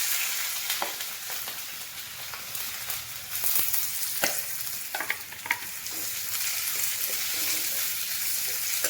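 Green chillies and onion fry in hot oil with cumin and mustard seeds for Uttar Karnataka girmit, a dense steady sizzle broken by scattered pops and stirring scrapes, close and continuous with no talking.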